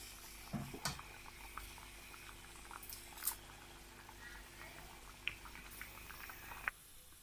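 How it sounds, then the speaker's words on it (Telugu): Tamarind fish broth bubbling in a pot, a quiet, steady simmer with faint pops and a few small clinks, no one talking. "ఇప్పుడు చింతపండు పులుసు మరుగుతుంది"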